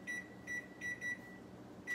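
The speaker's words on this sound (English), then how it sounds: "Set my timer because I always forget it." Electronic kitchen timer being set while baking low-carb bagels, giving a string of short, evenly spaced beeps close by with no talking.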